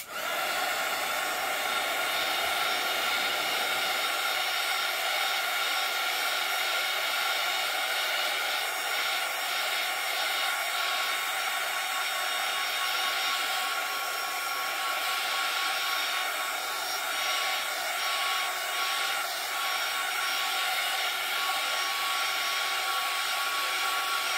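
A hair dryer runs at a steady, unbroken whoosh for the whole stretch, drying fresh paint on a winter night painting; close and constant, with no talking over it.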